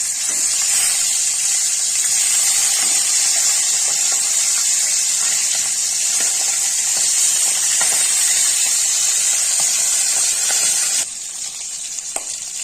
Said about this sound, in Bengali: একসাথে দুটো দুটোই মাথা ভেজে নেব